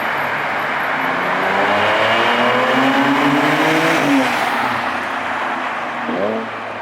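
A modified supercharged Audi S4 heard from outside, its exhaust droning loudly and steadily with rising engine pitch sweeps as it accelerates, then a brief dip and another rev near the end, no talking over it.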